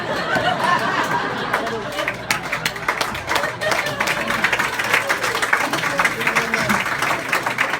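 A comedy club audience claps and laughs for a stand-up comedian, a loud steady wash of clapping with chatter and chuckles throughout.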